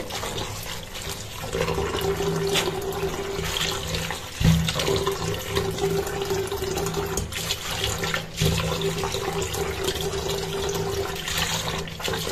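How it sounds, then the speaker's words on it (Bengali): Red amaranth greens are rinsed under a steadily running tap in a kitchen, a continuous loud rush of water with a couple of brief splashing shifts and no talking. "তো এখানে আমি এখন শাকগুলো ধুয়ে নিচ্ছি।"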